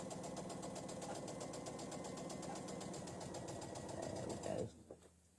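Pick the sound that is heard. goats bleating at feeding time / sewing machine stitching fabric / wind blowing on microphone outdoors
sewing machine stitching fabric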